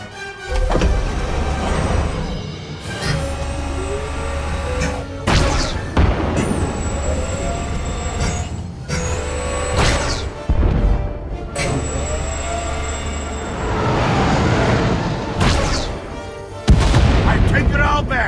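Starship weapons and explosions in the Star Wars: The Old Republic game, a dense barrage of booming blasts and bursts with a steady rumble underneath, loud and continuous with several sharp hits, while voices speak intermittently.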